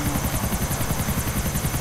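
Helicopter in the video game GTA 4 with loud rotor chop beating in a fast steady rhythm and a whining engine over it, close and continuous with no voices.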